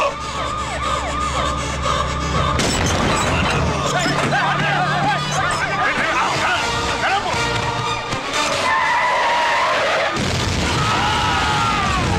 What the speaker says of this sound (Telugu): Bomb bomb bomb.